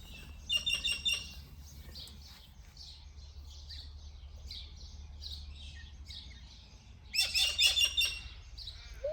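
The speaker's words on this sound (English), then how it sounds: "they're cockatoos, 2 white cockatoos up on the branch" Two white cockatoos perched on a branch give harsh, raspy screeching calls in two loud bursts at the start and near the end, with softer chatter between them over a low background hum.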